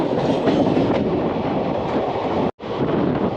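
The 22-coach Simhadri Express passenger train runs along the line between Samarlakota and Nidadavolu, giving a loud continuous rumble with rhythmic rolling and clatter that briefly cuts out near the end.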